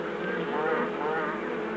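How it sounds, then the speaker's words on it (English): Bees and wasps at a hive, including raiders from other hives, make a steady, close, continuous droning buzz that holds at an even level throughout. "There are always a few raiders about, foreign bees from other hives, or wasps stealing honey"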